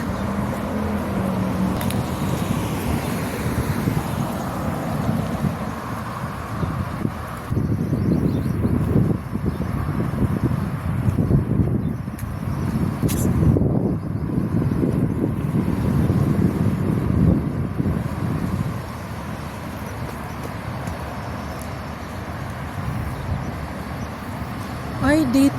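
Wind gusts outdoors on an afternoon walk, a constant rushing roar buffeting the microphone, swelling and easing over time with faint background noise beneath.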